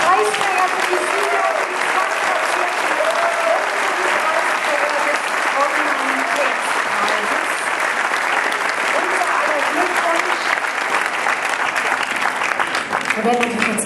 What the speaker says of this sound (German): wir dürfen nochmal klatschen für alle Preisträger, für die Sieger